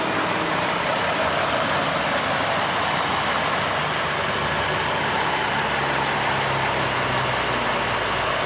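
A 2004 GMC Envoy XL engine idling, a steady, even low rumble with a broad hiss on top that holds unchanged throughout, close by and with no voices.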